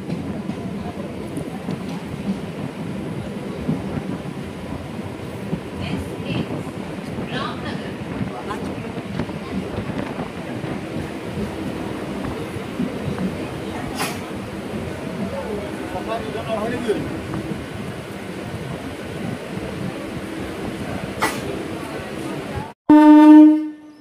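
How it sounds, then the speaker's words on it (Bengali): A local train leaves Ramnagar station on the Digha to Howrah run. Steady rumble and carriage rattle fill most of the clip, and a short, loud horn blast comes right at the end. "আমাদের ট্রেন ছেড়ে দিল রামনগর স্টেশনে।"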